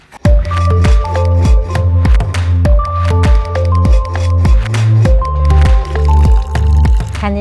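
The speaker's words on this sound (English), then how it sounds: "mixing that warm water, warm filtered water, blending it in with the coconut flakes and getting a nice rich concentration of coconut cream" Coconut flakes mixed with warm filtered water are squeezed by hand into coconut cream, a loud, close, rhythmic series of wet squishes and dripping splashes repeating steadily.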